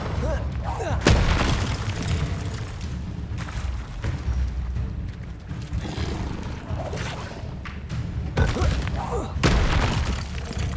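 Spell casting in the Hogwarts Legacy video game, with the Incendio fire spell among rapid bursts, booming blasts and crackling effects over a dense game soundtrack, while a voice calls out spell names throughout.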